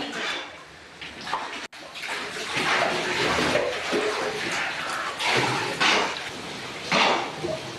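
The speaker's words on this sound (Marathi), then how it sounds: "घरात शिरलेलं पाणी बाहेर काढण्यासाठी नागरिकांची कशा प्रकारे कसरत सुरू आहे" Flood water that entered houses near a village temple during heavy rain being bailed out, with continuous splashing, sloshing and pouring in uneven bursts, and busy voices of people working in the background.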